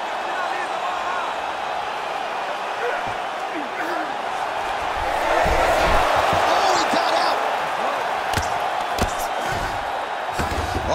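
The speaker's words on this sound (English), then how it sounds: "the crowd pops in appreciation as the fighters work their way back" A fight crowd in the UFC 5 video game roars in appreciation during a grueling ground battle between Pantoja and Erceg, a broad sustained swell that rises midway, with thuds and a commentator talking over it.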